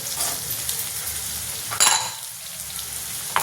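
Red onion and 4-5 chillies frying in hot tempering oil for a green banana dry dish, a steady close sizzle with a brief clink of a utensil stirring midway.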